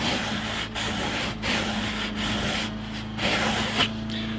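A fingernail rubs steadily along the edge of a wooden bass guitar body under construction, a close, continuous dry scratching with a few brief pauses.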